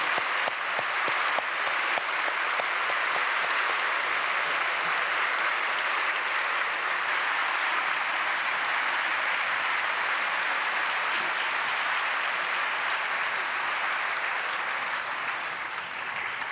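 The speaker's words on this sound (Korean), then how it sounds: "우리 뜨거운 박수로 격려해 주시기 바랍니다" Warm, sustained applause from a large congregation at a Korean church union worship service marking Liberation Day, a dense even roar of clapping that continues for the whole stretch without speech.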